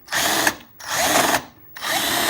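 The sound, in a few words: power drill countersinking holes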